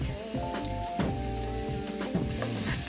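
Carrots cooking in a pan for Korean-inspired noodles, a close, continuous sizzle with a few stirring clatters and a faint tonal hum underneath, no talk.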